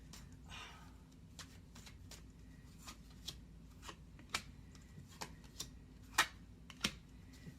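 Tarot cards being shuffled and drawn during a reading, soft quiet flicks and taps of card stock in an irregular series of light clicks, a few slightly sharper snaps near the end, over a low steady background hum.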